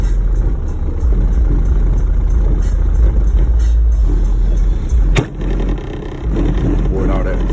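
Heavy bass from two 18-inch Monolith subwoofers on a Lanzar Opti 4001D amplifier shakes a car, filling it with loud, continuous buzzing panel rattle that dips briefly near the end.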